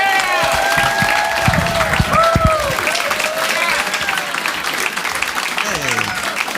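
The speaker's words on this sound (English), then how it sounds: "A big round of applause for Doug Mellard." A comedy club audience applauds and cheers as comedian Doug Mellard is welcomed to the stage, with a few whoops over the clapping.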